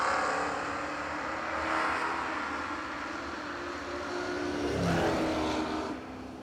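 Drag racing cars, one a Camaro, launching down the strip at Bradenton Motorsports Park during the New Year Nationals, a sustained engine roar that swells twice as cars pass at a moderate distance.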